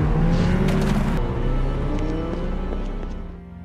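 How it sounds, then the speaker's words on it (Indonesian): A car passes by in a street scene, its engine a steady rumble that is loud and close at first, then fades slightly as it moves on. "sebuah mobil melintas dan Chris mencoba menghentikannya"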